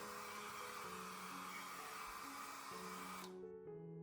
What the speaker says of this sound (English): use a hairdryer or paper towel to dry it